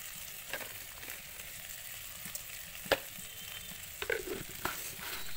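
Potatoes stir-frying in a pan with ground cumin and salt, a quiet steady sizzle broken by a few brief scrapes and taps of a spoon, with no voices.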